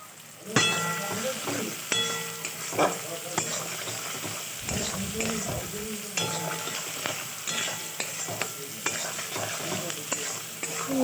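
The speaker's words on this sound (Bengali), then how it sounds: "নুনটা দিয়ে ভালো করে নাড়িয়ে চাড়িয়ে টমেটোটা গলে যাওয়ার পর্যন্ত অপেক্ষা করতে হবে" Chopped tomatoes with salt sizzle in a frying pan for egg chow mein while a spatula scrapes and clinks against the metal in irregular strokes, close and steady, with a faint voice briefly underneath.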